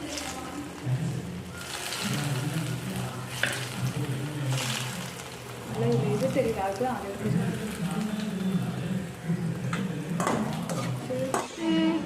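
Bread pieces frying in a pan, bubbling and crackling while being stirred, with scraping utensil sounds and a voice talking intermittently in Tamil.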